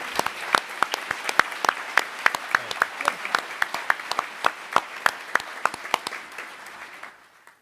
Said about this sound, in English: We'll conclude my report with one big round of applause for all of them